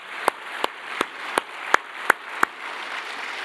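A church congregation claps in thanks during a Sunday afternoon service, though only about seven separate, evenly spaced claps stand out clearly above a steady background hiss.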